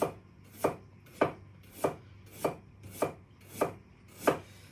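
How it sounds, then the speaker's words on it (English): A knife slices thin pieces on a cutting board while making Cambodian lok lak, eight crisp, evenly spaced chops in a steady rhythm, close and clear with no talking. "So I'm just going to take a few thin slices."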